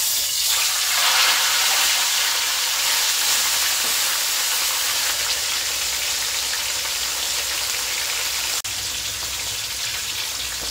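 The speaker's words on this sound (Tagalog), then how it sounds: "Painitin po muna natin bago natin ilagay dyan yung piprituhin natin na isda" Fish frying in hot oil in a kawali for escabeche, giving a steady, loud, close sizzle that crackles evenly throughout with no voices.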